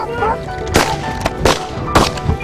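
Shotgun blasts at francolin on a South African wingshooting hunt, three sharp reports roughly evenly spaced over a low outdoor background, with faint bird calls.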